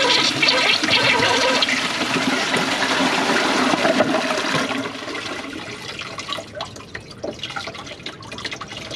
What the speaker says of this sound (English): Siphon jet plugged with a flush with a press in release.